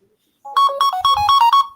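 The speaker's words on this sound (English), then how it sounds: "who phone is that or computer?" A phone or computer ringtone plays a bright, repeating melodic pattern of short tones, loud and close, starting abruptly after a brief silence and continuing steadily.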